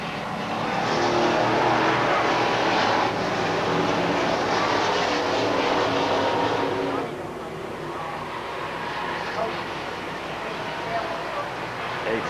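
A pack of race cars roars around a short oval track during a feature race, a steady loud engine drone that eases slightly partway through, with an announcer talking over it.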